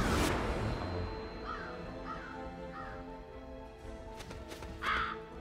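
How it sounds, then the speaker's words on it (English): A crow caws several times in the video game Lost Ark, a series of harsh, evenly spaced calls heard at moderate distance over a steady layer of ambient game music and background sound. "It's got an evil bird."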